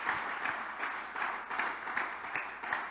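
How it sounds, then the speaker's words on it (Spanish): Church congregation applauds during a sermon, a steady wash of many hands clapping with rhythmic pulses, moderately distant and continuous throughout. "Denle un aplauso porque el Señor es experto en pelear por nosotros"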